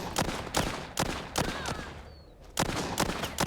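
Pistol gunfire in the zombie shooter game Walking Zombie 2: a string of sharp, loud shots spaced roughly every half second, with a short pause midway before the firing resumes.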